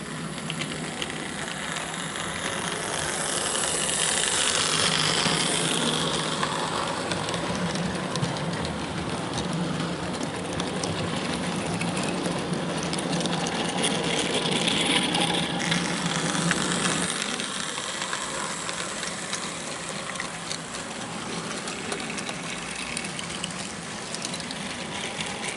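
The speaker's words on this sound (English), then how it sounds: "now we'll bring a goods train through the cutting." A steady mechanical rumble and whirr of a model railway goods train running continuously through a cutting, swelling slightly and then fading a little toward the end.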